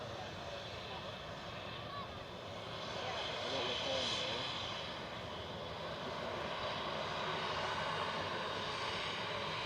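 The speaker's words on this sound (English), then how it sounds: "Now the runway jet 2 just to give them a take off." A Jet2 airliner takes off at Manchester Airport, its engines roaring steadily and swelling slightly as it climbs, heard at a distance under a person talking throughout.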